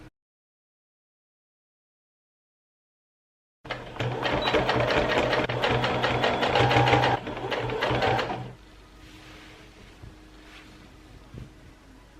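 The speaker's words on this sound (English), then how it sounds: "So I'm gonna put the flap on the inside and sew it like that." A sewing machine stitches a flap onto a homemade Princess Poppy Halloween costume, running in a steady loud whir for about five seconds after silence, then stopping to a quieter background.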